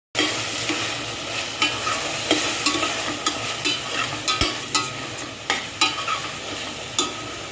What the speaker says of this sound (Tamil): இப்போது நான் இஞ்சி பூண்டு பேஸ்ட் ஆட் பண்ணுறேன். ஸோ நல்லா அதுவும் போட்டு நல்லா அதுவும் ஃப்ரை பண்ணிக்கோங்க.